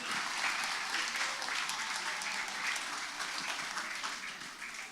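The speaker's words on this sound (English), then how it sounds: "Can you give him a huge round of applause?" Sustained applause from a live audience at a BrightMed Talks event, greeting a guest on stage; dense, steady clapping that fills the room, with some indistinct voices mixed in.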